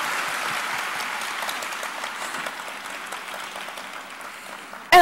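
Applause from an audience at a business event, a steady wash of many hands clapping that slowly thins over several seconds before a sudden loud bump at the end.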